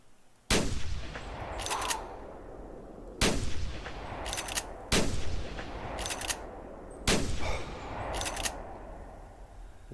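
A 30-06 rifle fires at a grizzly bear in the hunting game theHunter. Four loud, sharp shots ring out a couple of seconds apart, each trailing a rolling echo.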